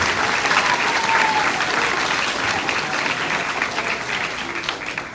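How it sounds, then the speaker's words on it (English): Sustained applause from an audience at a sixth grade farewell ceremony, a dense steady clatter of clapping hands filling the room and tapering slightly toward the end. "How about a round of applause for all these speakers here tonight?"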